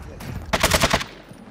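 A rapid burst of automatic gunfire in the game Call of Duty: Modern Warfare II, roughly six sharp, loud shots in quick succession after a softer shot, then tailing off into quiet background.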